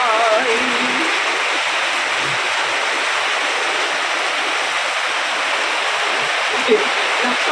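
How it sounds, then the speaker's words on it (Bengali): Steady rain falls throughout, a dense continuous hiss heard close and fairly loud, with no talk over it. "মাত্র বৃষ্টির মধ্যে"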